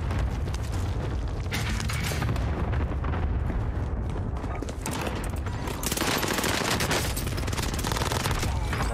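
Rapid, dense bursts from a PPSH submachine gun in Call of Duty Vanguard, set up for maximum fire rate with a silencer, pour out almost without pause, mixed with other loud battle gunfire and booms.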